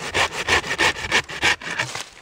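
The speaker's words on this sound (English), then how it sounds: "saw this tree down with a handsaw" A handsaw cuts down a buckthorn tree while invasive woody growth is being cleared, its steady rhythmic back-and-forth strokes rasping loud and close, about eight in a row with a short pause near the end.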